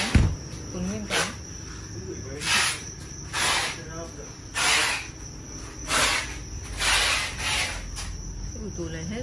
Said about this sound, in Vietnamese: Dế này để nguyên cánh để phục vụ cho các khách hàng có nhu cầu về dế trứng có cánh